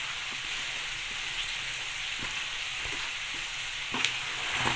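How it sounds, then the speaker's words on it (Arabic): Dates being kneaded in a hot pan give a steady broadband sizzle with soft scraping and pressing sounds, close and continuous, with a slightly sharper clack near the end. "غادي نبداو ان شاء الله نعجنوا في التمر كما راكم تشوفوا"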